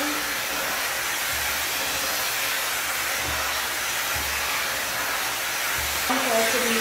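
A 5-in-1 hair tool blows on high heat while drying hair, giving a steady loud whooshing hiss that continues throughout with slight shifts in tone.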